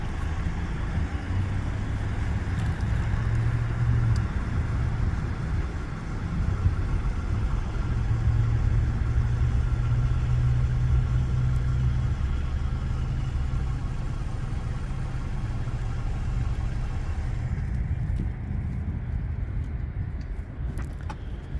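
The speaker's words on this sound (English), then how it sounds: "No, it sounds like that's a car." A car engine rumbling low and steady as it idles and passes nearby, a continuous mid-loud drone that thins out near the end.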